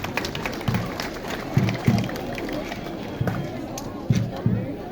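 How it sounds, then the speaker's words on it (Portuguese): Applause for Mr. Francisco Ferreira de Melo at a town anniversary celebration in Cachoeira Dourada, Goiás: scattered, moderately loud claps come in short bursts over crowd murmur and a speaking voice. "Uma salva de palmas para o senhor Francisco também"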